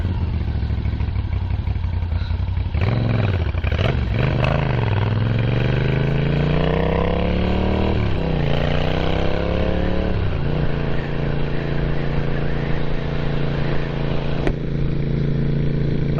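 A Moto Guzzi V7 motorcycle engine under way on a street at night, revving up through rising pitch sweeps as the rider accelerates, then settling into a steady, loud, close rumble while cruising.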